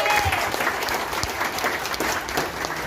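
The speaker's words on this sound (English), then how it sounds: "Let's please clap for our TN" Crowd clapping for Nazma Ilyas at an award ceremony during a cultural event: a short, dense, steady burst of applause filling the room, with a faint whistle-like tone early on.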